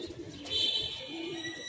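Pigeons coo softly on a rooftop where a flock with nine chicks gathers, a steady low cooing with a faint higher chirp in the middle, close and alone with no talk.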